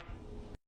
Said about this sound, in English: Farting.